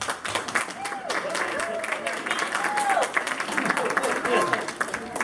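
Students applaud at a Kiwanis spring recognition day. The clapping is a dense, steady patter lasting several seconds, with a voice speaking over it.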